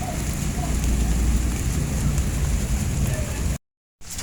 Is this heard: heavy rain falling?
yes